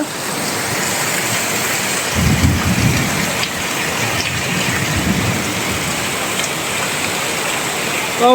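Heavy rain pours steadily at night, a dense loud roar, with deep rumbling thunder rolling in around the middle of the stretch.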